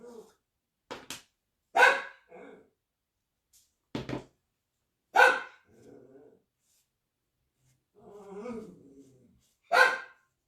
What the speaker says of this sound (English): I am so sorry that he is barking up a storm.